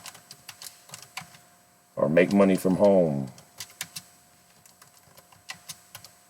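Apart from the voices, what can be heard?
typing on computer keyboard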